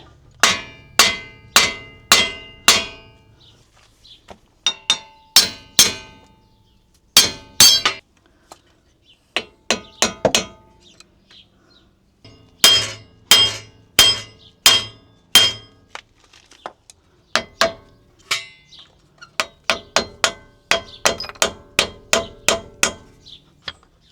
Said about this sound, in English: Get a fucking hammer on it.